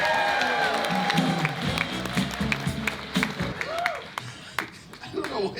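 An audience applauding and cheering for a comedian on a cruise ship, steady clapping from a crowd with scattered whoops, mixed with voices and some music, thinning out toward the end.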